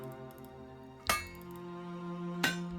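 A hammer strikes wooden pegs into beams in the medieval building game Medieval Machines Builder, giving two sharp, separate knocks over a steady background hum.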